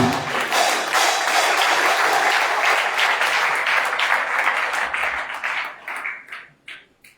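A crowd at a French-language sermon applauds and cheers loudly and steadily, then the clapping thins into scattered claps and fades out near the end.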